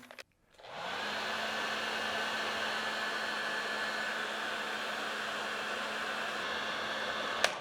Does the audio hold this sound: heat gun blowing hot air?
yes